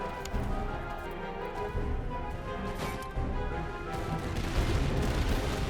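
Musket fire across an 18th-century battlefield in the Master of Command strategy game, with continuous rolling volleys and scattered shots. A dense, loud crackle holds steady throughout, with no voices.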